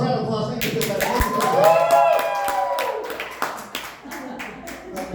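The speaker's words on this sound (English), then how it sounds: "Round of applause, round of applause." A comedy club audience at Dog Track Comedy Room claps in a scattered round, uneven individual claps under loud voices and a rising whoop close by.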